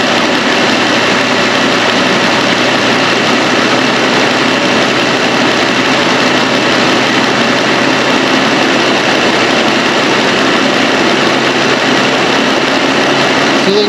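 Jeep Wrangler 3.6L engine idling steadily after a motor swap, a continuous broadband rumble holding at an even level throughout, close and loud with no talk.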